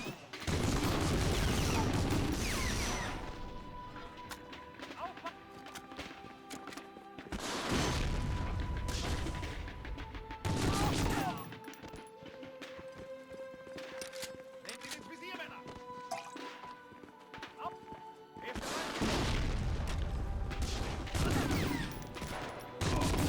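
In Medal of Honor: Frontline, a turret lets off heavy bursts of gunfire and booms in several loud clusters, separated by quieter stretches with someone talking over the game.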